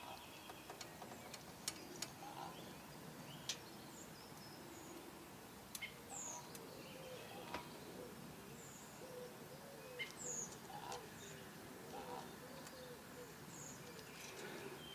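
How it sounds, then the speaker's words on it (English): Birds call around nearby woods beside a canal in the morning, with scattered chirps and short hoots at moderate distance over a soft background hiss, and a few sharp tapping clicks that could be a woodpecker. "I know the woodpecker is around this morning."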